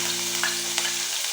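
Chopped garlic sizzles in hot oil in a pan with a steady, dense frying hiss, a low electrical hum running underneath and a couple of faint stirring scrapes.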